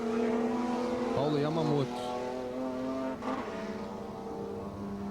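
Stock Car Light race cars from the 2000 season scream past in a replay of car 32 crashing, with high engine tones rising and falling under a commentator speaking.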